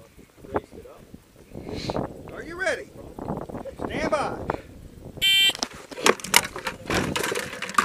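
A short, harsh electronic start buzzer sounds once at a short-range shooting competition, rising above people talking and scattered nearby clatter and knocks.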